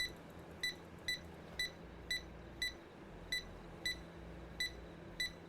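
A toy computer shaped like a duck gives short electronic beeps, about a dozen evenly spaced chirps repeating roughly twice a second over a low background hum, fairly faint.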